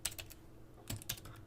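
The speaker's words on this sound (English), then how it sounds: "and then we'll type in" Computer keyboard keys clicking close and quiet as router commands are typed, a short irregular burst of keystrokes with no voices.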